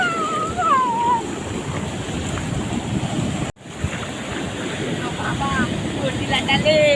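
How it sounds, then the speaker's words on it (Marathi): Big ocean waves surging and washing near a family picnic spot, a steady roar of surf with heavy wind buffeting the microphone throughout, a brief dropout midway, and faint voices at times. "मागे मोठी लाट आहे."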